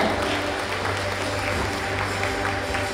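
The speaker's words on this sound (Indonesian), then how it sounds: "Hadirin sekali lagi boleh kita berikan tepuk tangan yang meriah" An audience applauds at the opening of the Indonesia Stock Exchange, with a dense, steady wash of clapping throughout.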